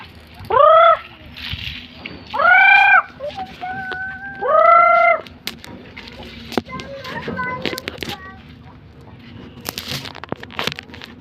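Several loud, harmonic chicken calls in short bursts, clucking or crowing nearby, followed by quieter chatter and background voices.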